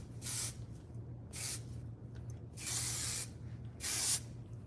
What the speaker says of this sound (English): I'm gonna grab some big sexy hairspray.